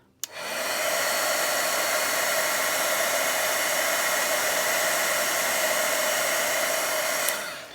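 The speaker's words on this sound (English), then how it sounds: "the heat guns that I'm using throughout this class, they emit heat, they don't blow air" A heat gun runs steadily for several seconds during card embossing, giving a loud, constant whirring hiss that starts abruptly and stops near the end, with no talking.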